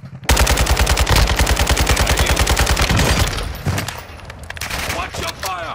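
Automatic gunfire in the video game Call of Duty: Modern Warfare II, a loud sustained burst of rapid shots lasting about three seconds, followed by quieter scattered shots and game noise.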